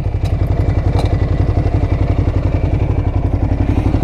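A Ducati Hyperstrada motorcycle engine runs steadily and close by, a continuous low rhythmic throb with a light mechanical clatter over it and no speech.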